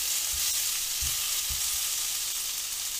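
Potatoes fry in oil for Bombay potato, a dense continuous sizzle with a few soft low thumps as the pieces are turned and stirred, close up.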